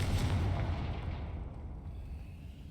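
A Confringo fire spell explodes in Hogwarts Legacy, a single loud booming blast with a rumbling low tail that fades over a few seconds.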